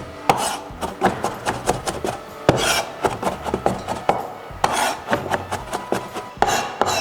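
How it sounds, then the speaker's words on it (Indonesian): A knife chops food on a cutting board for a Singaporean chicken rice recipe, giving rapid, rhythmic, close thuds in quick bursts with brief pauses between runs. "Ini kita cincang, tapi nggak usah terlalu halus juga nggak apa-apa."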